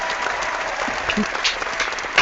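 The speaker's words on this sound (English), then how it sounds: "Let's clap for Irene." Audience applause for Irene, a panelist at a gender diversity power chat, a steady wash of many hands clapping with a few louder claps near the end.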